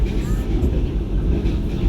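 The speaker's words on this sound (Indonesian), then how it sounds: "Kita berpapasan dengan kereta api ini kali ya" An Argo Parahyangan train rolling through rice fields, with another train passing: a steady, loud low rumble of wheels and carriages, continuous throughout, with a voice speaking over it.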